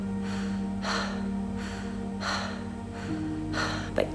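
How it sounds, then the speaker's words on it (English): During guided rebirthing breathwork, a person draws several gentle breaths in through the mouth, soft airy rushes repeating about every second and a half, close and quiet over a steady low hum. "you can bring in a mouth breath"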